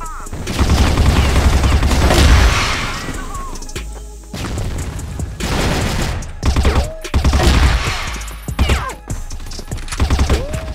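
Loud bursts of video game gunfire and heavy explosions, dense and chaotic at first, then sporadic blasts and shots with brief gaps between them.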